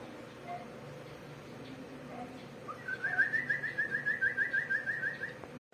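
A bird gives a rapid series of repeated whistling calls, fairly close, over low background noise and murmuring.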